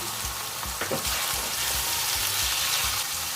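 Green peas tumbling into onions sautéing in oil in a pan, giving a steady loud sizzle and frying hiss with a few soft clatters as they are stirred.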